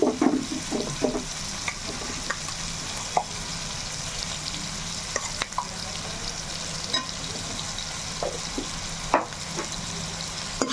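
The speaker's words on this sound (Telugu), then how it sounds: "ఇప్పుడు మసాలా వేసుకుందాం" Onions and a ground masala of ginger, garlic, coriander seed, cinnamon and cloves fry in a pan with a steady close sizzle, broken by scraping stirs and a few clinks of the spoon against the pan, with no voices.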